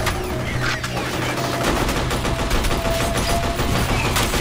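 Sustained bursts of rapid gunfire from the video game F.E.A.R. Perseus Mandate, loud and dense throughout with overlapping shots and no pause, forming a continuous firefight.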